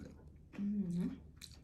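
Crunchy fried raw banana chips, homemade in coconut oil, chewed close to the mic, with a short burst of crisp crunching and mouth sounds after a quiet start, while a faint voice hums briefly.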